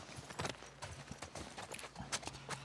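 Horse hooves clip-clopping in The Last of Us Part II, a run of uneven hoofbeats at close range with a low mechanical hum underneath and no talk.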